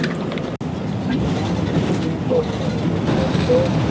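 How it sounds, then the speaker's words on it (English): New York City subway train at the Roosevelt Avenue–Jackson Heights station: a steady, loud rumble of rail cars rolling through the platform, with faint wheel squeals and a brief dropout near the start, no talking. "Roosevelt Avenue, Jackson Heights subway station."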